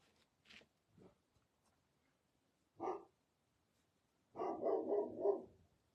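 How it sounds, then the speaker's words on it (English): A dog barks indoors, a few separate single barks early on, then a louder cluster of rapid barks near the end, fairly close with quiet gaps between. "He's barking at his dad."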